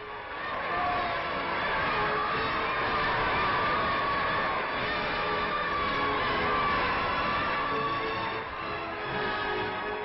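A large, enthusiastic street crowd in Algeria greets President Auriol's passing procession with a steady, distant roar of cheering voices under a hot sun, continuous and slightly muffled throughout.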